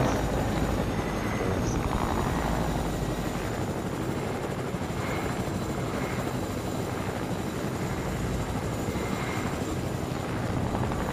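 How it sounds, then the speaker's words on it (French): A helicopter in the Fortnite video game drones with a continuous, loud rotor and engine roar that holds steady throughout, with no voices over it. "Il vient pas détruire ma maison avec ton hélico."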